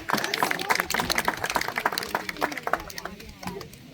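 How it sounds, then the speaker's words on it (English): Audience applause at an African Lion Safari animal show, a steady patter of clapping from a crowd at moderate distance, fading slightly toward the end. "let's give him a big round of applause for that"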